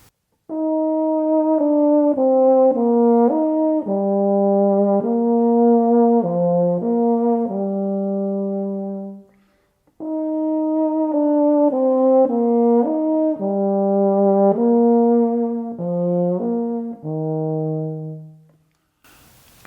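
Euphonium plays the melody of Kind Words with added slurs, smooth connected phrases in two matching passages separated by a brief pause, loud and solo.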